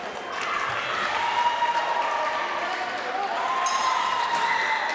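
Crowd at a Commonwealth Fencing Championships bout in Scotland rising into cheers and applause, a broad sustained roar swelling and holding, with a commentator talking over it.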